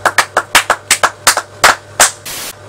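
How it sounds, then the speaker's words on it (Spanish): Roughly ten sharp, close hand claps, evenly spaced at first and then slowing, come from just one or a few people, with a brief rushing noise at the end. "Un aplauso."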